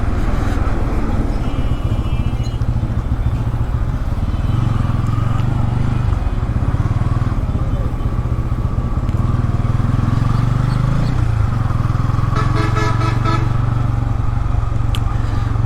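A motorcycle ridden slowly and alone along a road gives off a steady, close engine drone mixed with constant wind rumble, with no break for the whole stretch.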